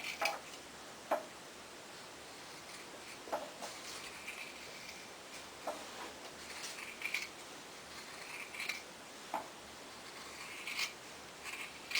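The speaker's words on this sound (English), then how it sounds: "you're going to cut around your template about 1/4 of an inch" Scissors cutting through two pinned layers of felt around a paper template, quiet rhythmic snips with faint clicks, close and unhurried over a soft background.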